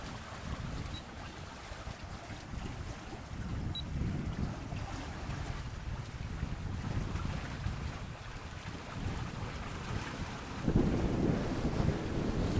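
A sailboat under sail heads into Sardinia, with steady wind buffeting the microphone and water rushing along the hull, a continuous moderate wash that swells louder near the end.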